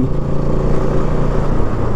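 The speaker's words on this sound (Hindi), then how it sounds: "पावर कॉरपोरेशन की गाड़ी जा रही है भाई" A power corporation vehicle passes on a rural hill road, its steady engine rumble filling the moment loud and close, no voices over it.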